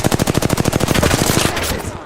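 Loud, rapid automatic gunfire in Call of Duty: Modern Warfare II, a fast even burst of close shots lasting about a second and a half before it tails off.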